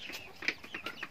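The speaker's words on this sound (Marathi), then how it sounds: "इथपासून हे कोंबडे दिसतात" Free-range desi chickens in a small poultry shed give a few soft, scattered clucks over about a second, close by and fairly quiet, with no talking.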